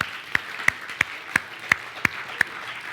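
A church congregation claps at a worship service: seven crisp, evenly spaced claps at a steady beat over quiet room background.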